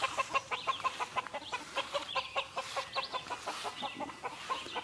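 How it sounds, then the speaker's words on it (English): Several chickens cluck and chatter in quick, repeated bursts at moderate distance, with a soft outdoor background. "Chickens in the yard."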